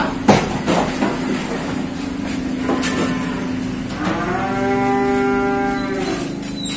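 Cattle low at a cattle dealer's yard, one drawn-out, loud moo rising and holding near the end after a quieter lowing call, with clanks and bustle around them.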